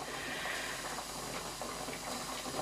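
Steam hissing out of a pressure canner just after its lid is opened while canning chickpeas; a steady, loud, broadband rush that runs unbroken throughout.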